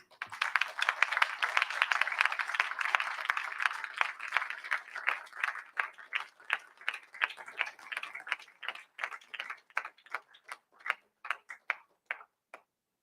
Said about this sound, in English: Now on cue, your applause, please